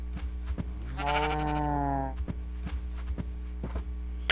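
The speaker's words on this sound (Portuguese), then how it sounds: "Ah, ovelha, tá enchendo o saco." A sheep in the Minecraft video game bleats once, a wavering, drawn-out call of about a second, over a steady low hum with soft footstep clicks before and after.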